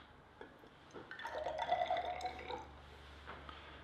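Water poured from a container into a glass test tube holding sodium carbonate powder for a precipitation reaction, a soft trickling splash building over about a second and a half before tapering off, no talking.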